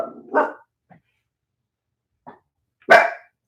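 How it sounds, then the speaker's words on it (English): Dogs bark outdoors in the Ozarks, a few separate sharp barks with pauses between them, one fairly loud and others fainter and farther off. "Dogs barking everywhere."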